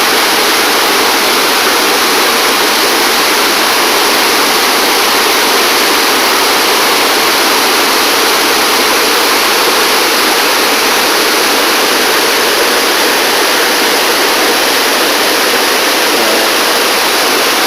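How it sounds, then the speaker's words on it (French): A loud, steady rush of falling water from a forest waterfall, constant and enveloping with no pauses. "il y a un cascade, la rivière qui remonte encore toute la montagne."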